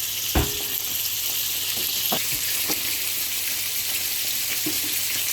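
Garlic sizzles in hot oil with onions and spices, a steady frying hiss with a few soft knocks and stirring sounds scattered through.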